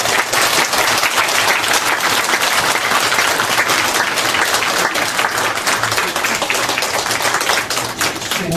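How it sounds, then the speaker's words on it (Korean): A standing church congregation at a Sunday worship service gives a round of thank-you applause, loud dense clapping sustained evenly for the full stretch with no voices over it. "감사의 박수 한번 하겠습니다."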